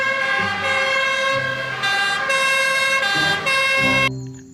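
A toy fire truck's electronic siren wails loud and steady for about four seconds with a wavering two-tone pitch, then cuts off abruptly, leaving a faint hum.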